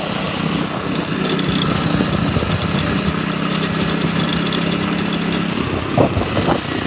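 A kart engine in Mario Kart hums steadily at a constant pitch for several seconds amid a dense, busy game soundtrack, then cuts out near the end, leaving brief scattered effects.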